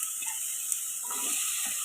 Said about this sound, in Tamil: இப்போ வெங்காயம் வதங்கணும்.